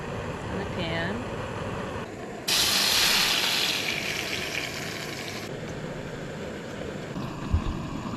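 Shrimp frying in coconut oil in a pan on a small camp stove at a campsite, a loud steady sizzle that bursts in suddenly and hisses for several seconds before easing back to a softer background.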